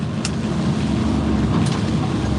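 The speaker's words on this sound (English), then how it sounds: "and the engine brake, compression brake, Jake brake, retarder, whatever they want to call it" A heavy truck's engine compression brake holds a steady, loud low rumble with a rough droning tone while slowing for a red light. No one speaks.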